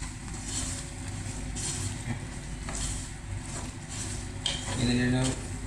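Chicken curry being stirred after Kashmiri chilli powder goes in, a spoon scraping and clinking against the pan in a steady rhythm, with a soft sizzle underneath and a brief brighter clatter near the end.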